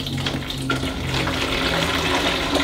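Dirty water from a Rug Doctor carpet deep cleaner pours and splashes steadily into a container nearby, a continuous gurgling rush for a few seconds.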